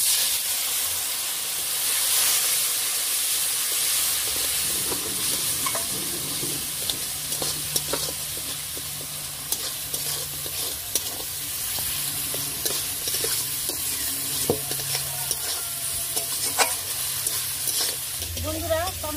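Ground cumin, coriander and fennel masala sizzles and fries in a pan while being stirred, a steady close hiss with scraping stir strokes throughout.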